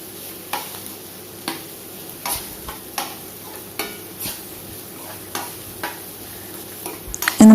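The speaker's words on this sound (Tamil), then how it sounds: "இந்த மாதிரி நல்லா வதக்கி எடுத்துக்கோங்க" Vegetables with ginger-garlic paste being sautéed in a pan for bamboo rice vegetable biryani, a soft sizzle underneath regular scraping stirs of a spoon about every half second to second, close, no talking.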